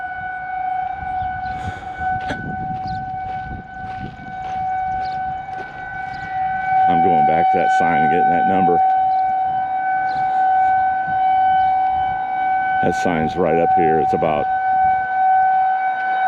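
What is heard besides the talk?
siren going off outdoors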